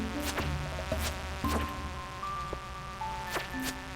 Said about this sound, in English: Get out of here, bees!